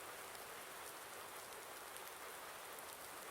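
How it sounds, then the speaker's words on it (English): Steady, soft rain falls in a Farming Simulator 19 farm setting, a continuous even hiss with no other sounds on top. "So I don't exactly know why it's raining right now."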